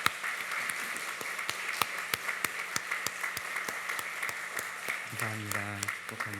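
Church congregation applauds after an instrumental performance at a Sunday worship service, a steady wash of clapping with sharp individual claps standing out, before a voice begins speaking near the end.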